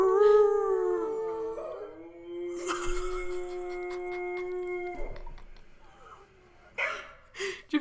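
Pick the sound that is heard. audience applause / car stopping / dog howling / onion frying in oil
dog howling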